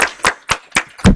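Five slow, loud, separate claps close by during a Sunday service at the Miracle Center for Spiritual Living, part of a round of applause for Reverend June, evenly spaced with no voices.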